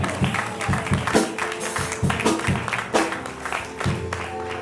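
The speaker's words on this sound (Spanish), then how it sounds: "Denle un aplauso al Señor." A church congregation claps during a worship service, loud rhythmic hand claps in an uneven beat, with music playing and voices heard amid the clapping.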